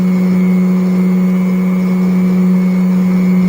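A small DC motor spinning near 11,000 rpm, a loud steady high whine with strong sustained tones and a faint buzzing hum beneath, unbroken and close up.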